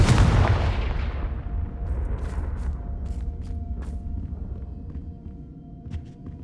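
A Confringo fire spell from the Hogwarts Legacy video game bursts in a loud explosion that rolls into a fading rumble, with faint crackles and clicks trailing afterward.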